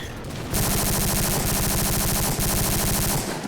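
Rapid automatic gunfire from the video game Codename CURE rattles in a dense, continuous burst lasting about three seconds, loud and close, with only brief dips in the stream of shots.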